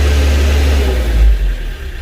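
A Daedong RX570 tractor engine with weak power and a lit warning light, suspected water in the fuel filter, revs hard but tops out at 2150 RPM. A loud, steady close-up roar briefly dips before holding again.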